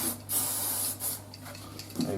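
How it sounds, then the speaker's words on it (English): Legia cleaning spray misted onto a phosphorus bronze brush for cleaning a Calibre Innovations Double R practical shotgun barrel, heard as a few short, close hissing spray bursts in a quiet room. "So I'll wet the brush in the Legia spray."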